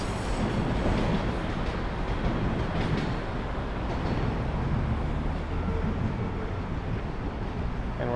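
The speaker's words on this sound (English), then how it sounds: "There goes a southbound train on the left." A southbound train passes close by in Toronto, heard from a scooter ride along a bike lane: a loud, continuous rumble and clatter of rail cars that fills the whole stretch, with no speech.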